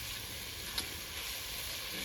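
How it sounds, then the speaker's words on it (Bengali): Round-cut potatoes fry with spice masala in a pan, making a soft, steady sizzle with one faint click partway through and no talking. "এবার আলুর সাথে মশলা দিয়ে ভালো করে কষাও তো।"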